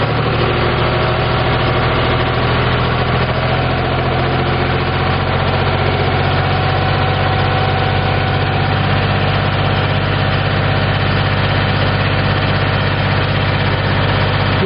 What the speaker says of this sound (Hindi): तो यहाँ हम इसको 2000 आरपीएम पर ले जा रहे हैं।